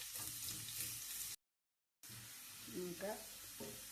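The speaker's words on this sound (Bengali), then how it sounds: "রসুনটা দিই। রসুনটা একটু লাল হোক।" Garlic frying in a pan, a steady bright sizzle broken by a short silent gap, then resuming with a voice speaking over the frying.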